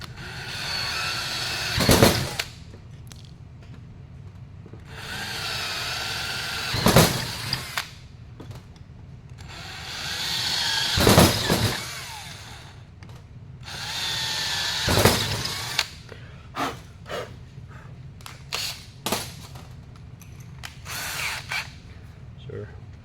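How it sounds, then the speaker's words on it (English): A quarter-inch power drill bores holes for an oval deck plate in several short, loud whirring bursts close by, separated by pauses filled with quieter handling noises. "we're going to use our 1/4 inch drill to drill these 4 holes here"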